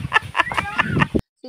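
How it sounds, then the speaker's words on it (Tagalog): Pet farm chickens clucking and cackling in a quick run of several close calls, ending abruptly into silence. "Silipin din natin ang kanilang mga alagang manok."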